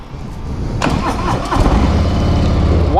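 A stock 114 V-twin in a 2019 Harley-Davidson Road Glide Special motorcycle cranks and fires up, catching loud and close before settling into a deep, rumbling idle for a few seconds, with no talking.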